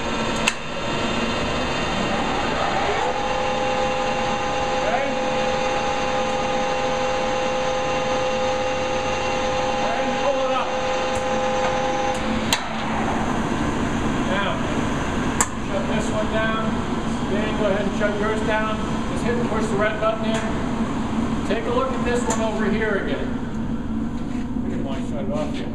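A metal lathe spindle spins in a machine shop, giving a steady, loud mechanical whir with a faint tonal whine that runs through the whole stretch, with voices murmuring underneath.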